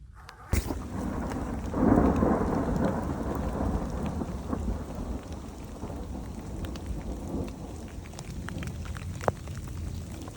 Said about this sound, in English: This is what a storm looks like on the trail, folks.